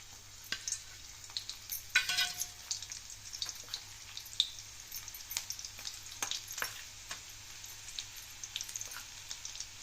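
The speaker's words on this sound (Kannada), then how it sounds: "ಈ ಎಣ್ಣೆ ಕಾಯ್ದಿಂದ ಇವಾಗ ಈ ಬೆಳ್ಳುಳ್ಳಿ ಹಾಕಿಬಿಡ್ತೇನೆ" Garlic sizzling in hot oil for a North Karnataka green chilli karindi, a soft continuous fry with crackles and a few sharper spits, close and fairly quiet, with no speech.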